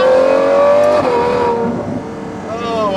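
Novitec Ferrari 812 N-Largo V12 screams at high revs, then barks down through a downshift, its pitch stepping lower while a voice talks over it.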